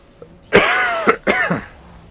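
A commentator casting a League of Legends match coughs twice in quick succession, close and loud into the microphone, two harsh bursts with a brief pause between them.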